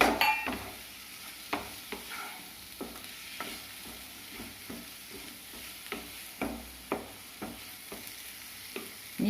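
Eggs tossed and sautéed in a curry masala of onion and spices, a soft sizzle broken by repeated clinks and scrapes of a spoon against the pan, close and without talk.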